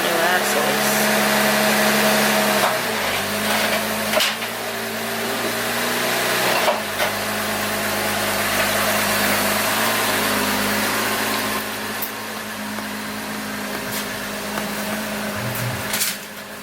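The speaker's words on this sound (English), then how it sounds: "first initial test drive after installing new axles" A 2018 Jeep Wrangler JL on its first test drive after new axles were installed, heard from inside as a continuous engine and drivetrain drone with shifting tonal hums and a few sharp knocks, with people talking over it.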